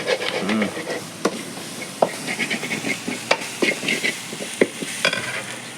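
Mutton pieces frying in hot oil for a mutton curry, stirred with scraping clicks and scattered sharp knocks over a low sizzle, with a faint voice briefly in the background.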